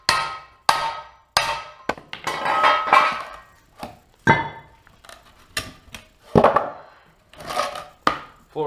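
An aluminum skid plate for a Z400 is hammered on a raised anvil, producing sharp, ringing metallic strikes at an irregular pace. Each blow is loud and close, with short decays between hits.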